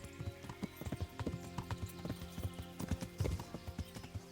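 Rhythmic clip-clop of a horse's hooves as it is ridden along in the medieval game Kingdom Come Deliverance, steady close hoofbeats with a faint whinny and no talk.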